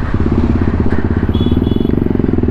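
A TVS Apache RR310 motorcycle rides through traffic, its engine a loud, steady, pulsing rumble close up, with a faint horn-like tone briefly rising in the background.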